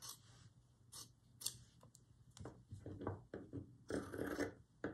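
Scissors snipping through thrifted folklore textile, a series of soft, close crisp cuts and rustles in an irregular rhythm, faint and quiet.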